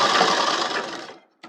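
A sewing machine stitches a kurti with one steady, whirring run lasting about a second, then stops, followed by a brief short burst of stitching; close and fairly loud, with no voices.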